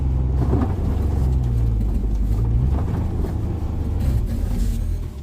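A Ford Bronco engine revving hard to pull free of snow, a loud, sustained low roar with rising and falling throttle surges, close by and continuous, fading slightly at the end.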